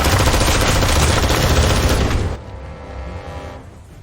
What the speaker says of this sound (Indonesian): Begitu suara tembakan terdengar, ia langsung membalas tembakan.